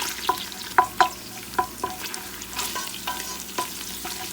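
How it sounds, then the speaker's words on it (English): Garlic fries alone in a pot for beef stew, a close, steady sizzle broken by several sharp scraping and clinking stirs of a utensil against the pan at an uneven rhythm, with no voices. "you're gonna fry just the garlic by itself"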